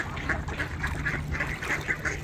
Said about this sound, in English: Hybrid duck, so pretty.